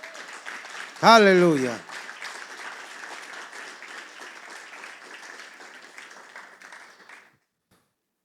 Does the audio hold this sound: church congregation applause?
yes